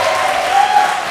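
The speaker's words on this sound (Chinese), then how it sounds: "再一次给伟德热烈的掌声，" A stand-up comedy show audience claps in a dense, steady burst of applause, loud and close, filling the short moment without any voices rising above it.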